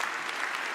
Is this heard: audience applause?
yes